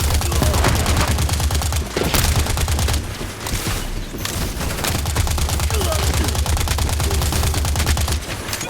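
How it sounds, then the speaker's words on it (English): Sentry guard robots open fire in the sci-fi video game Earth Revival, a loud, sustained stream of rapid automatic gunfire with dense overlapping bursts and only brief pauses near the middle. "guard bots firing indiscriminately"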